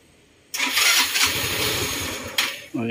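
A Yamaha Mio i 125 scooter engine cranks and catches, then runs at a steady, buzzy idle close by, with a brief blip near the end.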